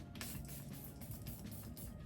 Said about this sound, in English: I'm just going to spray my face with the Charlotte Tilbury Flawless Setting Spray.